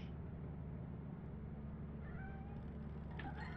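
Cat meowing in modded Lethal Company, a short faint cry or two over a steady low in-game hum, with no voices.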